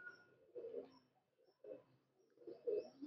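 Pigeons coo softly in a loft, three separate low throaty phrases spaced about a second apart, quiet and close with no talking.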